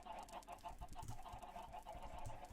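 Chickens in the Minecraft video game cluck in a steady, close stream of soft repeated clucks over a continuous low background hum.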